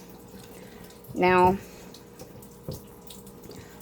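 Water runs steadily from a tap, a continuous rushing stream heard close by while someone briefly speaks over it.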